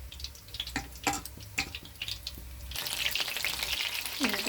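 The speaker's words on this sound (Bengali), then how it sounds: "দেখো গরম গরম ছেড়ে দিলাম, পকোড়াগুলো ভাজি।" Pakoras dropped into hot oil, with soft stirring and scraping clicks at first, then a loud, dense sizzle that rises and holds close by.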